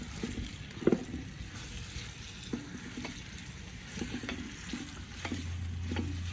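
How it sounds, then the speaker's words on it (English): Steady sizzling of beef browning in a heavy camp oven, with occasional scrapes and clanks of stirring and a low hum joining near the end. "We've got a sizzle happening, that's what we want."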